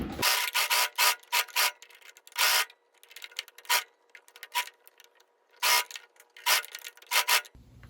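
A sewing machine backstitches on a fabric belt, giving short mechanical bursts of stitching in an uneven stop-start rhythm, close and moderately loud, with quieter handling between runs.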